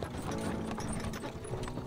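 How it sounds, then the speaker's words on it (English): Horse hooves clip-clopping in a steady rhythmic gait as a sound effect for a horror story, continuous and moderately loud with faint mechanical rattle. "the sound of distant hooves caught her attention"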